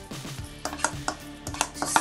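A spoon scrapes and knocks against a pot while stiff Ghanaian kenkey dough is worked out of it, giving a string of sharp, close metallic scrapes and clinks in an irregular rhythm with no talk.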